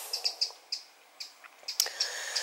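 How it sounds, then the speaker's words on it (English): A small bird twitters busily in Hutton Woods, a string of bright, quick chirps and tweets repeating at an irregular pace, fairly close and clear over a quiet background, with no one talking. "There's a busy little bird twittering there."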